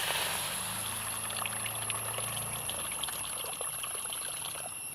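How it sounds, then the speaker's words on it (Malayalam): Water is poured into a pan of jaggery set on the stove, making a steady, close trickling pour that runs for several seconds before easing off. "അതിൽ നമുക്കിനി കുറച്ച് വെള്ളം ഒഴിച്ചു കൊടുക്കാം."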